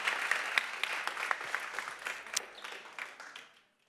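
Conference audience claps in a loose, uneven burst of separate hand claps, moderately close. The clapping thins out and stops abruptly near the end.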